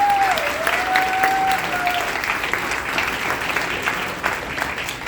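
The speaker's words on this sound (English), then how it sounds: "If we could give everybody, all of our candidates, a round of applause." A room applauds candidates at a county sheriff candidate forum, sustained clapping from many hands that stays loud and even for several seconds, with a faint tone sliding in near the start.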